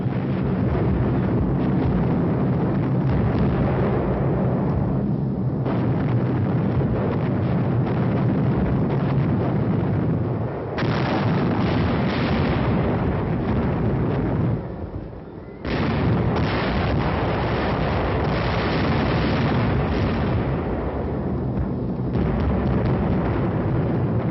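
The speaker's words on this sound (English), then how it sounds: "In 4 hours, 500 tons of bombs were dropped to level the Abbey." Continuous heavy bombardment as 500 tons of bombs fall on the Abbey atop Monastery Hill, a dense, roaring wash of explosions and rumbling blasts sustained throughout with brief dips, loud and wind-buffeted.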